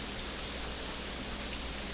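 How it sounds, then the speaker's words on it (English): Steady, dense rain hisses without a break during a flight in the Fly! II flight simulator video game, a constant wash of drops with no other sounds. "as you can see, it is raining."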